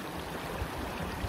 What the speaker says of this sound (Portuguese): ao som de cachoeira de um lado, de outro